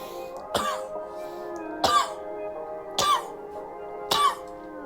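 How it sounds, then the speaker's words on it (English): Four harsh allergy coughs with throat clearing, repeated at a steady pace over a constant background hum, close to the listener and with no speech. "This is the sound of my allergy condition."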